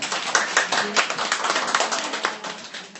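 Audience at a Korean hair-styling seminar claps for the models, brisk close clapping from a modest crowd lasting a few seconds at an even level, with no talk over it.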